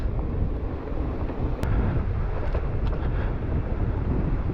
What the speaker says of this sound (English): I think very windy now.